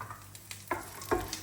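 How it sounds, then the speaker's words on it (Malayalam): Almonds and cashews fry in a hot pan, giving a faint, brief sizzle broken by a few soft clicks and pops. "ആൽമണ്ടും കുറച്ച് കാഷ്യൂനട്ടും ഇതും കൂടെ നമുക്ക് വറുത്ത് ചേർക്കാം"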